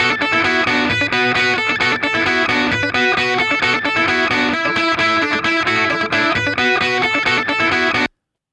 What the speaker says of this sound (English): just hear the guitar part by itself without any distortion, so the plugin is bypassed